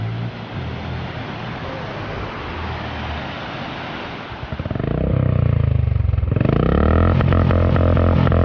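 Water rushing down Kiliyur Falls in Yercaud, a steady broad roar heard from nearby that swells louder partway through, with no talking.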